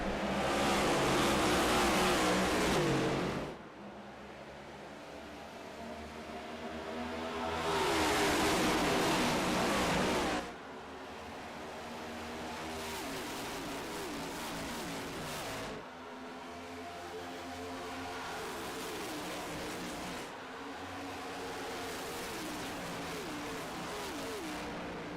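Simulated NextGen Cup race cars roaring at full throttle on the restart at Atlanta Motor Speedway in iRacing, a loud, dense engine drone swelling and fading in long waves as the pack passes, with a faint voice underneath.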